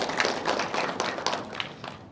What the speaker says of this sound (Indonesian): Boleh tepuk tangan dong semuanya.